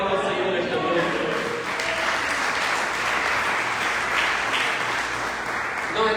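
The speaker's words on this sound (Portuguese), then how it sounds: "Se você crê, diga amém e aplauda ao Senhor nesta noite" Church congregation applauding during an evening revival celebration service in Manaus, a dense, loud wall of clapping and voices filling the hall, steady throughout.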